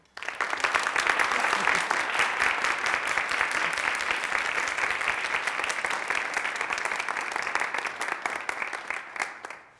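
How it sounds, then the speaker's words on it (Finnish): Sustained audience applause at a Finnish antiracism talk, welcoming a speaker to the stage; dense, steady clapping fills nearly ten seconds at full strength before tapering off at the end, with no talk over it. "Toivotetaan aplodien saattelemana lavalle Laura Late-Mäntylä"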